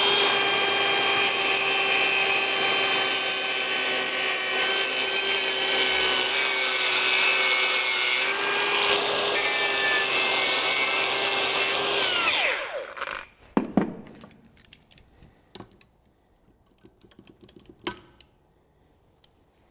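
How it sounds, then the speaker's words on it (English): A power cutting tool grinds through the metal base of a welded EV contactor, loud and continuous with a high whine for about twelve seconds, then it stops abruptly, followed by scattered clicks and handling knocks. "I'll try and cut the metal at the bottom."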